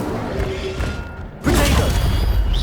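The Incendio fire spell is cast in Hogwarts Legacy, bursting into a loud, sustained whoosh of rushing flame with a low rumble that jumps in abruptly partway through and stays heavy until the end.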